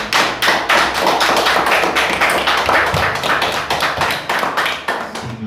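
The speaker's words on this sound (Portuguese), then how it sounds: "dá uma salva de palmas para o Senhor" A church congregation claps in praise, loud and close, with sharp rhythmic hand claps in a steady beat repeating throughout with no voices over them.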